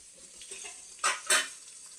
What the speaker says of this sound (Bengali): পেঁয়াজ ভাজা হচ্ছে, দেখো